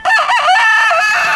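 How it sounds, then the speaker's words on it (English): A rooster gives one loud, close crow, a single drawn-out call that rises and wavers for just over a second. "those are good chickens"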